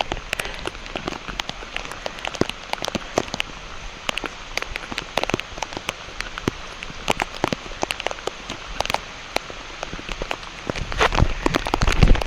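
Rain pattering on the ground and nearby surfaces during a hill climb to a temple, a dense steady shower of drops with sharper, louder taps scattered throughout and no clear talking.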